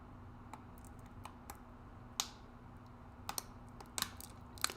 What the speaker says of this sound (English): Sorry if you hear the clicking. I just have a plastic water bottle here